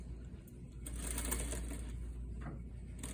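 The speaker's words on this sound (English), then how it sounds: "I'm stitching to the right of the seam all the way to where my break point is" A sewing machine stitches a shawl collar seam, a soft quick rattling run of stitches over a low steady hum, close but quiet.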